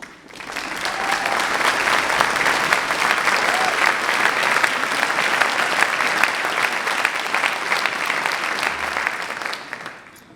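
Steady applause from a large audience in a university graduation ceremony hall, dense and sustained for about ten seconds before fading out at the end.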